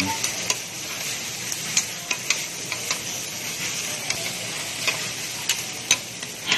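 Kimchi rice cooks on a griddle with a continuous sizzle, punctuated by regular metallic taps and scrapes of a spatula stirring and chopping.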